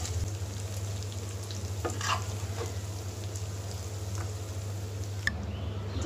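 Pangas fish pieces and onions fry in a pan with a constant soft sizzle over a low hum, with a few faint scrapes of a stirring spoon.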